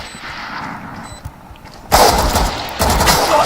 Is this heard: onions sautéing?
no